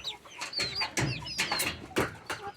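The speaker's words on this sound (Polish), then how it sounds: "tu kurka czarno-białe, gdzieś jest ta ładna niebieska kura" Several hens, black-and-white and barred among them, cluck in a pen with poultry and pigeons, a run of short clucks and calls repeating close by with no talk.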